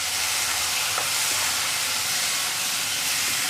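Quarter kilo of chopped green tomatoes sautéing in a hot pan for chutney, a steady broadband sizzle and hiss running evenly throughout with no voices.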